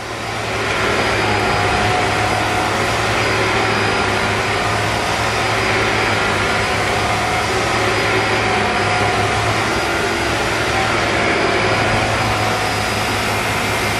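A vacuum cleaner on a tech superstore shop floor runs at maximum suction over carpet, a loud, steady whine and roar held throughout without pause, with a low hum underneath and no talk.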